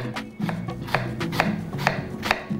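A knife finely slices fennel on a cutting board in quick, steady strokes, each crisp chop close and distinct, with no voices.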